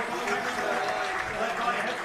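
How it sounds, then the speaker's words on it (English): A homecoming crowd at Fisher Field cheers and applauds as the Warsaw Tigers football team runs onto the field, a broad steady roar of clapping and voices heard from a distance. "Good crowd on hand, as you might expect for homecoming"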